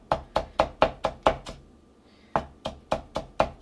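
Knife chopping old cilantro on a board, a steady run of sharp close knocks, a short pause, then another quick rhythmic burst of cuts.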